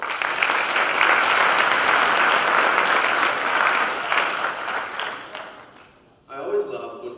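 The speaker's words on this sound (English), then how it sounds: "Let's give them all a round of applause." Audience applause for coaches at a Hofstra University athletics awards show, a loud sustained burst of clapping that fades out toward the end before a voice begins.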